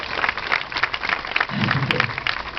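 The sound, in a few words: applause for colleagues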